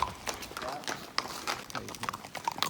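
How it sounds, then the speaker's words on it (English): Horse hooves clip-clop on a Camino Frances hiking trail, a series of soft, irregular taps at moderate distance, heard faintly outdoors with a person talking over them. "Clippity clop. Gotta love that clippity clop."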